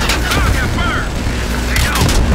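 Rockets explode in Call of Duty Black Ops Cold War combat, giving dense booming blasts and mechanical clatter over constant loud battle noise, with whooshing streaks cutting through.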